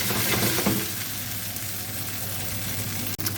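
Gnocchi fry in a pan over a gas flame, giving a steady close sizzle with a low burner rumble underneath, unbroken for the whole stretch apart from one brief dip near the end.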